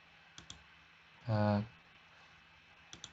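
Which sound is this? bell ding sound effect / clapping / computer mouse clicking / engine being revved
computer mouse clicking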